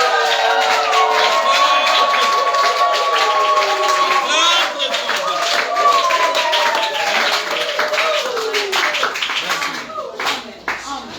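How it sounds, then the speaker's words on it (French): A church congregation claps and cheers for Jesus in a loud, sustained wave of rhythmic applause with voices and song-like tones mixed in, thinning toward the end. "Est-ce que tu peux acclamer encore très fort Jésus?"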